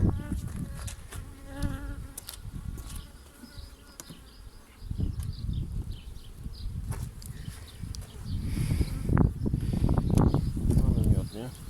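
Honey bees swarm at an open beehive with a honey super, their loud buzzing droning near and far, rising and falling, with muffled human talk and bumps of hive work now and then.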